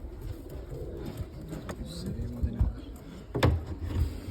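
Modena pigeons cooing in a loft, soft low coos repeating under ambient noise, with a few knocks and clatters and some background voices.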